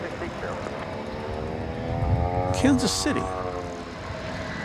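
An American Airlines Airbus A321 arriving from Kansas City at DFW Airport, a moderate engine hum with tonal whine rising slightly midway, while someone speaks over it.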